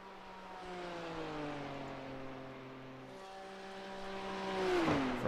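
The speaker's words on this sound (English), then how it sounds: "It's a 3-litre straight 6. That'll be why it makes a weird noise then." A BMW 3-litre straight-six race car in a racing video game at Suzuka, droning steadily at high revs with layered harmonic whine, then pitch shifts and a rising surge toward the end.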